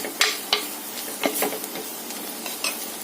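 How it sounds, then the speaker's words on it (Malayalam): Spoon stirring ground tomato paste into an egg roast masala in a pan, with scraping strokes at an irregular pace over a steady sizzle, close and fairly loud, no talking. "നമ്മൾ അരച്ച് വെച്ചിരിക്കുന്ന തക്കാളിയുടെ പേസ്റ്റ് കൂടെ ചേർത്ത് കൊടുക്കുക. നന്നായിട്ട് ഇളക്കി കൊടുക്കും."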